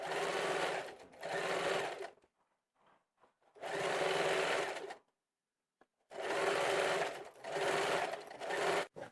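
Sewing machine stitching the neck of a kurti on canvas, running in several loud bursts of steady whirring separated by short pauses.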